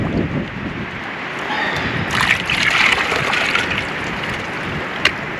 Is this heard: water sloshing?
yes